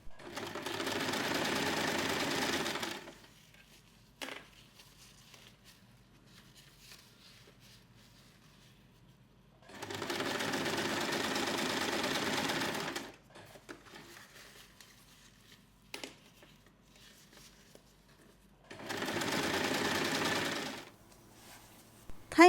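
A sewing machine stitches around the edge of a fabric storage basket in three loud, steady runs of a few seconds each, separated by quiet pauses with faint handling clicks.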